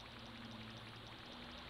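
Steady, faint flowing water from the Yume 2kki video game, a continuous trickling stream with no voices, even and unbroken throughout.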